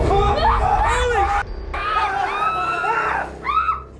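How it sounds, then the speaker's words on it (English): A paranormal investigation crew screams in panic as a door opens by itself, with several overlapping high, shrill voices and shouts rising and falling over a few seconds. "They all scream as they watch the door stand ajar for a moment before slowly closing again."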